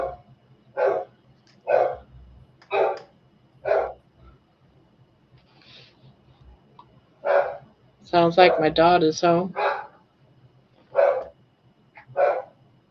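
A pit bull barks in a series of loud, separate woofs spread evenly across the clip, with a denser run of barking near the middle. Someone speaks briefly between the barks.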